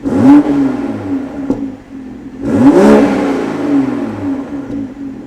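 A Supra's engine revs twice, each rev climbing sharply in pitch and then falling back, loud and close, with a steady idle between them.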